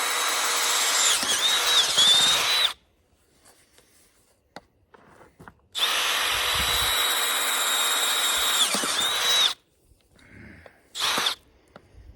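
Two long bursts of a power drill whirring at high speed through wood, close by, separated by a pause with light handling clatter, then a short final burst.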